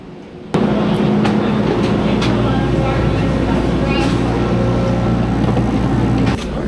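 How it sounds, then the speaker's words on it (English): Amtrak Acela train travelling out of Washington D.C., heard from inside with a steady rumbling hum and tonal drone, occasional clicks and thumps of the rails, and talk over it. "It wasn't long until it was time to get on my train out of D.C."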